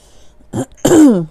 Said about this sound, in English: That's why I've been coughing this whole time.